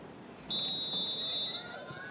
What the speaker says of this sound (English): Forward Emily Murphy will start this second half on the referee's whistle.